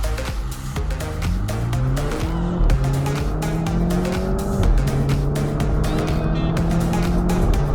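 A 2021 BMW Z4 sDrive30i pulls away from a stop, its engine climbing loudly through several gears with distinct rising pitch sweeps and brief dips at each shift.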